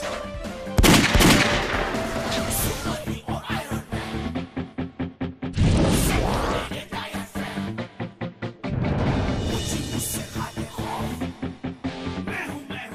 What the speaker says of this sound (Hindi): आप लोगों के पास गन है लेकिन आपको चलाने की तमीज नहीं